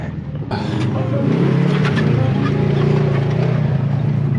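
Cars, pickup trucks and ATVs roll over concrete in Sedona, Arizona, a steady loud rumble of engines and tires, fairly close, building in after a quiet start.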